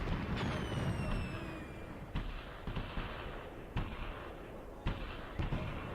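Incoming gunfire in the tactical war game Graviteam Tactics, scattered sharp distant cracks and thuds at irregular intervals over a low rumbling battlefield background.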